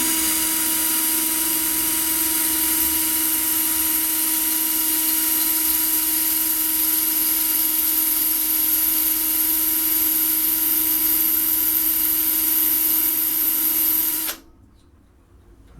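A small power drill bleeding a radiator runs with a loud, steady, high-pitched whine for about fourteen seconds, then cuts off abruptly, leaving quiet room tone.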